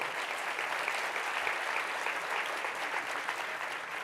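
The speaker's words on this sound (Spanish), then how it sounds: "¿Cuánto le puede dar un aplauso al Señor?" A church congregation applauds, a dense and steady wash of clapping from many hands that lasts throughout, fairly close, with no speech over it.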